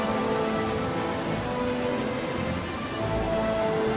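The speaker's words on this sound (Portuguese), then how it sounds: "a chuva transforma-se em granizo, que anuncia o inverno" Rain turning to hail in a polar region as winter arrives: a dense, steady wash of falling precipitation, loud and unbroken throughout.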